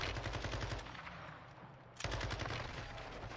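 Video game gunfire in rapid, sustained bursts, dense and loud, with a brief dip in intensity before the shooting resumes at full force.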